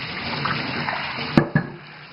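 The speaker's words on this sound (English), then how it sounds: "Then you can just wash off the rollers." Tap water runs steadily into a sink as juicer rollers are rinsed off, a close, even wash of flow broken near the end by two sharp clunks before it quiets.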